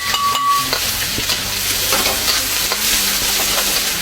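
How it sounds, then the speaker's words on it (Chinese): Scallion, ginger and whole spices hit hot oil in a wok and sizzle loudly and close. The crackling spits continuously, and a few thumps of stirring break through near the start. "锅已经热了，把咱们刚才搞的这个葱姜大料怼里头"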